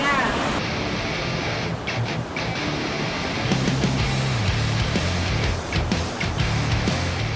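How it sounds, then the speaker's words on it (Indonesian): Ocean waves breaking against the coral rock walls of a tropical beach on Java, a continuous loud wash of surf and spray with gusty wind noise on the microphone and no talking. "Deburan ombak yang menghantam karang menyemburkan embun-embun yang menyegarkan."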